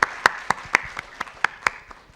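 Audience members at a Charcha 2022 conference session applaud the organising team with sparse, sharp individual claps, fairly close and unevenly spaced, tapering off after about two seconds with no talking.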